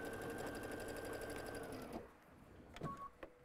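A sewing machine stitches mini-quilt pieces for a Card Tricks block in a fast, steady whir for about two seconds, then stops, followed by a few faint clicks and handling noises nearby.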